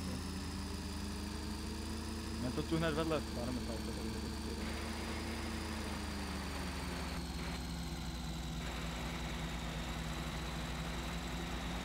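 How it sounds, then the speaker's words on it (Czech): A tractor engine in the Farming Simulator 2013 video game idles in a steady, low, faint hum, with a couple of brief knocks, under players talking. "Jedu si odparkovat traktor."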